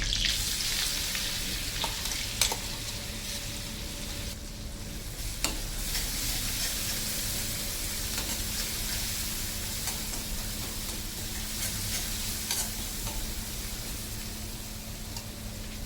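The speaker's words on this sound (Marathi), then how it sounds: "आणि आपण जे वाटण केलं होतं ते घालूया." Ground spice paste with curry leaves sizzling in a hot pan, a steady loud frying hiss throughout with occasional scraping clicks of a spoon stirring.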